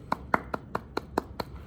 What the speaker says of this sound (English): Bravo, round of applause.